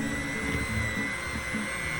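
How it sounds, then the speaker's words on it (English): An electric mixer beats banana bread batter, a steady, loud, continuous whirring drone close by with no breaks and no talking. "we're using the mixer, it's going to get those bananas mashed up a little more"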